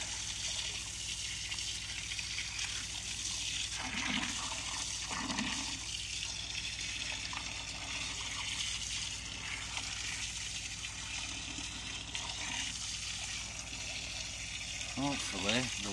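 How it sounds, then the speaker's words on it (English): Water gushes and churns steadily through a blocked drain pipe, a continuous rushing wash with a few gurgling surges, while a voice speaks at times. "Hopefully the water behind it will push it through."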